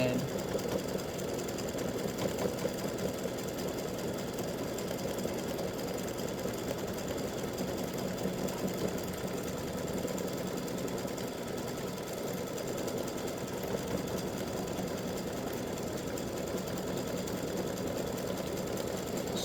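A home embroidery machine satin-stitches a freestanding lace bat earring, working around the ears and head. It makes a steady, rapid, close mechanical chatter that runs without a break.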